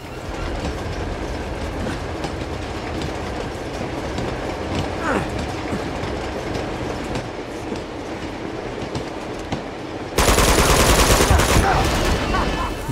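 A moving train in Uncharted 2 rattles steadily with a rolling clickety-clack throughout, with gunfire mixed in and a sudden louder, brighter burst of rumbling noise near the end.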